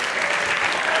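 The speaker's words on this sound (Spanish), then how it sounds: "ese aplauso de orgullo colombiano" Steady audience applause, a dense wash of clapping hands filling the space without pause.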